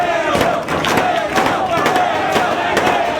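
A wrestling crowd at a live match cheering for Christopher Daniels, the Fallen Angel, as he fights out of a hold: a dense, steady roar of voices with rhythmic clapping or stomping beats throughout.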